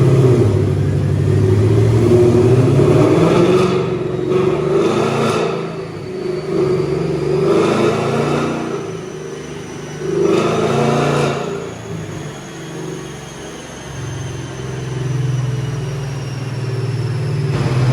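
A Ford Mustang running on dyno rollers, its engine holding a steady mid-pitched drone that swells into several revs and eases back, loud and close with no talking.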